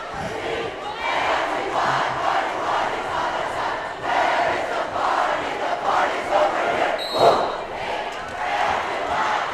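Loud, sustained crowd cheering and chanting fills a high school boys basketball gym at a Rocky Mountain versus Fort Collins game, with voices swelling in waves and a sharp peak near the end.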